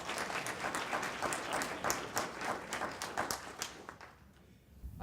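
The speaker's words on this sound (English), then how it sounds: "you should give yourselves a round of applause for being leaders" A small graduation audience of future leaders claps with a sparse, uneven patter of individual hands that fades out toward the end and sounds faint and roomy.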